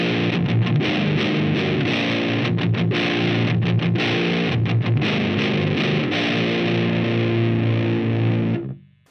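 A distorted electric guitar at moderate, lower gain through a Line 6 POD HD500x, sounding like a Marshall JCM 800, plays chords and riffs continuously for several seconds, then cuts off abruptly at the end.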